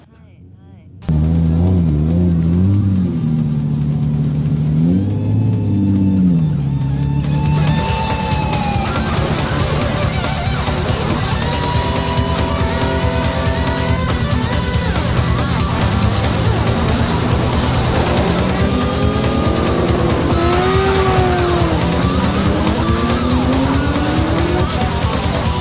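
A 1992 Nissan R32 GTR race car runs steady and loud for laps, its engine droning and rising with shifting pitch, with tire noise and revving throughout after a brief quiet start.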